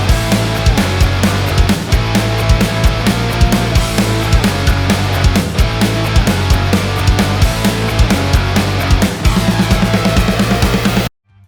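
Distorted electric guitar chugs through a punk riff of driving power chords, loud and close, with rhythmic stops punctuating the pattern until it cuts off abruptly.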